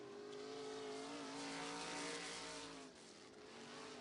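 Pack of 305 sprint cars roaring around a dirt oval during qualifying, engines loud and continuous with layered harmonic drones that swell and ease slightly as cars pass near.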